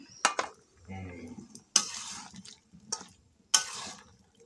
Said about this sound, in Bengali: লাউগুলোকে এখন আমি ভালো মতন কষিয়ে নিব